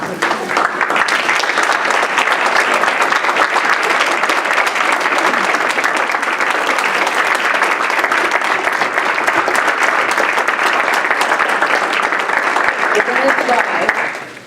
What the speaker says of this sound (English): it's time for all of us to stand and applaud 2015 honorees.